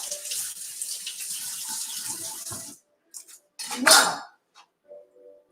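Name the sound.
water running from a tap while cooking spanakopita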